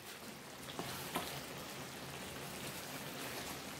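Eggs go into a pan of sizzling vegetable ratatouille, giving a steady, moderately quiet frying hiss with a couple of faint soft taps near the start.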